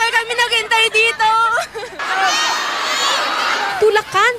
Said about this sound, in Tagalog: Tulakan, siksikan at hiyawan naman ang naging eksena sa open press conference ng CN Blue sa SM Mega Mall